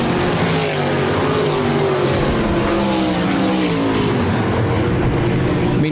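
RaceSaver sprint cars roar around the dirt oval at Park Jefferson Speedway, a loud, continuous engine drone with shifting pitch as cars battle for the lead, dense and unbroken throughout.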